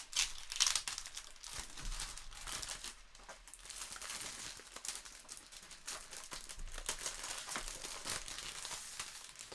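Brown paper packaging around a twelve-inch frameless vinyl record display is unwrapped slowly, giving quiet, close crinkling and rustling with a few sharper tearing crackles and no talking.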